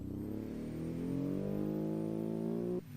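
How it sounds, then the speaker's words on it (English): A 5-valve boxer engine in a sports car revs up quickly, its pitch climbing steadily for over two seconds before cutting off sharply, close and clear with no talk. "We'll give it a quick rev."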